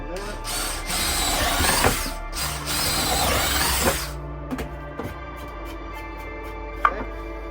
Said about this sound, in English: Okay, so we need to drill a hole in that.